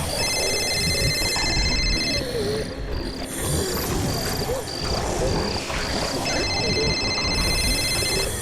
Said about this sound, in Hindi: जीत के फोन की आवाज